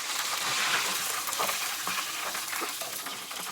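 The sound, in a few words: fish and shrimp deep frying in a fry cart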